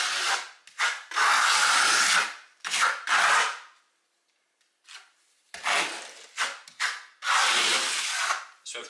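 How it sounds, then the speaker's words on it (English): A trowel spreads a concrete-effect venetian plaster base in up-and-down strokes, making close, hissing scrapes that come in separate bursts with short silent gaps between them. "This is like the concrete effect sort of base that we're putting on"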